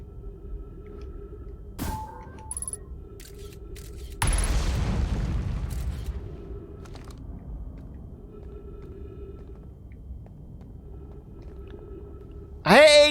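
In the Outer Wilds video game, a scout probe is launched from the ship with a sudden booming whoosh that fades slowly over a steady low hum, followed by a rising synthetic tone at the end.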